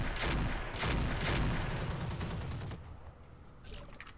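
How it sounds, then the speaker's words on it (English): Gunfire aimed at a turret in the video game Roguepoint: a dense burst of several loud, rapid shots over the first three seconds, then a quieter tail and a faint clatter near the end. "Let's just shoot for the turret."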